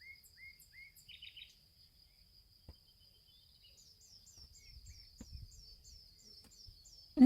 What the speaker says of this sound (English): the 1 hour flower meadow bird sounds thing